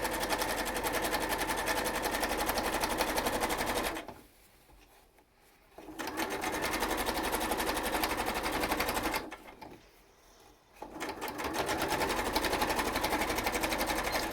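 A sewing machine runs steadily while stitching a fabric face mask, its close, even whir continuing for several seconds, stopping briefly, restarting, pausing again, then resuming; no one speaks.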